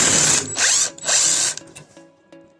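A socket ratchet loosens the rear differential bolts on a Mercedes E-Class W124, giving two loud, close bursts of rapid clicking followed by softer metallic ticks and clinks.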